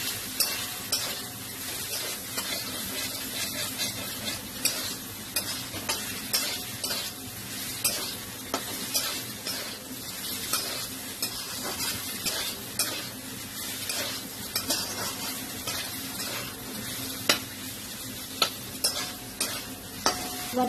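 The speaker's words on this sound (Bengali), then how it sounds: "এবার মশলাটাকে কষাবো।" Chilli powder, turmeric and salt masala is stir-fried in a pan for a Bengali eggplant and mourola fish jhaal, with a steady sizzle and a spatula that scrapes and clinks against the pan again and again.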